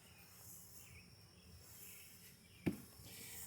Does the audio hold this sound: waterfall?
no